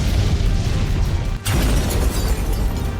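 A blast near the Azovstal plant in Mariupol, a loud rumbling boom with a sharp crack partway through over continuous heavy roar and debris noise.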